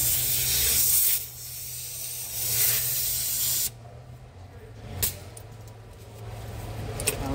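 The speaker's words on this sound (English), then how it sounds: "We have our air gun here." Pneumatic air gun hissing while working on the rear brakes of a Volvo B5 double-decker bus, a loud sustained blast of air for several seconds, then quieter workshop hiss with brief sharp bursts.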